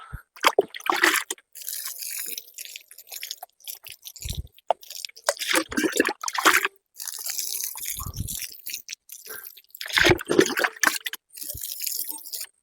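Water splashes and drips in uneven bursts, close up, with pauses between pours and no voices, as brinjal seedlings are watered.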